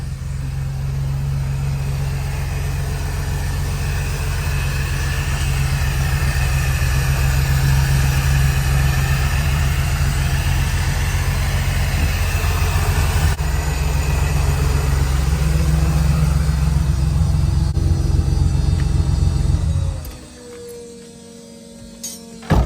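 A supercharged Toyota Hilux engine idles close by with a deep, steady rumble for a long stretch, then cuts off abruptly near the end, leaving quiet.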